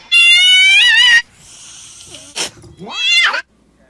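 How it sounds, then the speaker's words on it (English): A cat reacts to a hacky sack with a long, loud, wavering meow, then a short sharp burst and a rising, yowling cry, all close and with no talk. "Cat scared of hacky sack?"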